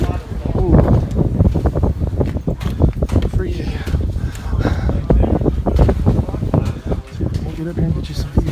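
Gusty wind blasts across an icy Appalachian Trail ridge, loud and close with irregular buffeting against the microphone, while a hiker's voice comes through intermittently.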